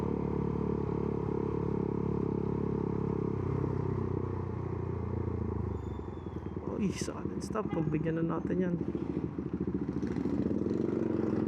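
Loud, steady exhaust rumble from a Husqvarna Svartpilen 401 motorcycle being ridden, continuous throughout, with someone talking over it close to the microphone.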